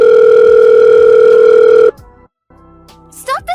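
A loud, steady two-tone telephone dial tone holds for nearly two seconds, then cuts off abruptly to near silence, followed by faint line noise and a brief warbling electronic chirp.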